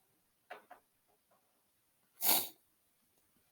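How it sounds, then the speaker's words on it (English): A person with hay fever sniffs and snorts, two short faint sniffs followed by one louder, longer nasal snort, in a quiet room. "Oh, sorry for sniffing. I think I've got hay fever."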